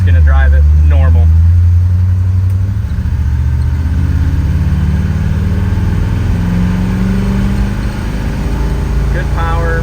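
A 1970 Chevrolet Nova engine runs loud and steady while driving, a continuous low rumble with shifts in pitch as it pulls through the gears. A voice speaks briefly near the start and end.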